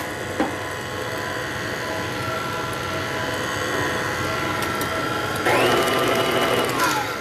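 Electric hand mixer whirring steadily in a bowl of pumpkin dip, a continuous motor drone with a sharper change in pitch near the end, loud and close with no talking.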